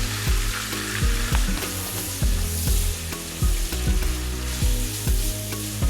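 Onions and greens frying in a cup of reused fish-frying oil on a stove for a Liberian potato greens dish, giving a constant loud sizzle broken by regular clanks and scrapes of stirring, with no talking.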